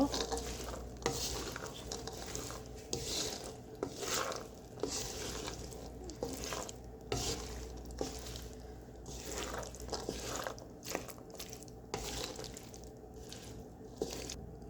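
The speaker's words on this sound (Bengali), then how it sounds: "এখন আমি দিয়ে দিচ্ছি বুট। দিয়ে দিচ্ছি কাঁচামরিচ, নাড়াচাড়া দিব।" Black chickpeas and green chilies are stirred in a frying pan, a steady close scraping and clatter of spoon over a soft continuous sizzle, with no talking.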